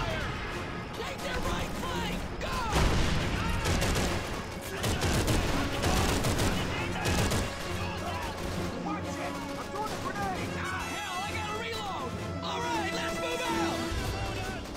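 Machine gun fire in the video game Call of Duty 3, dense rattling bursts over a loud battle din, with shouting voices and talking layered throughout.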